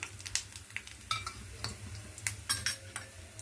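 Cashews and almonds fry in ghee in a pan for a sweet offering: a soft background sizzle under repeated clinks and scrapes of a metal spoon stirring against the pan.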